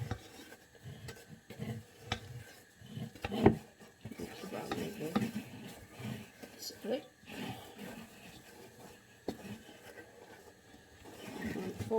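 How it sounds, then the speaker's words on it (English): Low-fat brownie batter folded and mixed in a bowl, with repeated soft scraping and clinking of utensil against the bowl alongside speech. "What you want to do is basically mix it all together"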